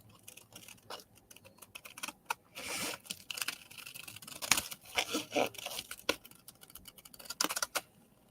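Scissors cut along a printed line in a sheet of paper, a run of uneven snipping and rustling clicks close by, with no talking.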